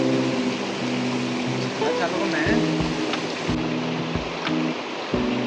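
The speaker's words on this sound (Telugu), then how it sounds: "చూడండి వాటర్ ఫాల్స్ ఎలా ఉందో." A waterfall beside a hidden road near Araku gives a steady rushing roar of falling water, heard continuously beneath someone talking.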